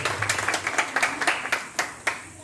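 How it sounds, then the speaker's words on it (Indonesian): Churchgoers at a Christmas worship service clap together, a rhythmic run of sharp, fairly loud hand claps that spreads out toward the end, with a little voice in the background. "Tepuk tangan bagi Tuhan"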